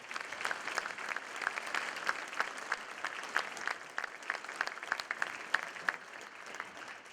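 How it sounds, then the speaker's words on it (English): An audience at a Rotary gathering claps steadily for a New Albany High School Hall of Fame inductee, a sustained, fairly faint round of applause with scattered sharper claps. "Let's give him a round of applause."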